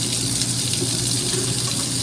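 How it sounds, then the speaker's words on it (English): Water runs steadily into a jar from a tap while making rejuvelac, a continuous close gushing and splashing that holds an even level throughout without any talk. "And I just keep filling it with water,"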